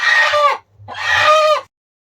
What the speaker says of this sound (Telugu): అండ్ ఒకటి వచ్చేసి ఇంకా కోడి పెట్టనమాట